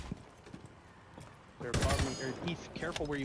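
Gunfire in Rainbow Six Siege, a quiet stretch broken by faint clicks, then a loud burst of rapid shots with someone talking over the tail of the firing.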